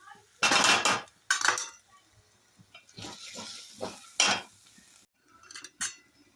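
Masala being stirred and sautéed in a pan, with loud irregular metallic scrapes and clanks of a spoon against the vessel in separate bursts, a faint sizzle between them and quiet pauses.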